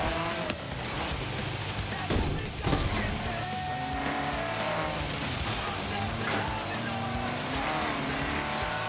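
A car in Forza Horizon 3 drives off-road through trees in the Outback, its engine droning and revving steadily throughout. Tire squeal and a brief rough impact come partway through.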